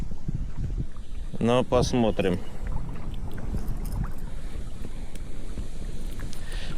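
Strong, steady wind roars over the water around a small boat during a July pike fishing outing, a constant low rumble with someone speaking briefly partway through.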